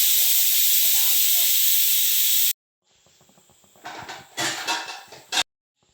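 Palappam batter hits a hot pan with a loud, steady hiss that cuts off abruptly, followed by quieter clatter and a few short scraping bursts from the cookware.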